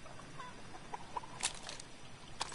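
Chickens in a video game cluck in short scattered bursts, faint and fairly distant, over a low steady background hum, with no talking.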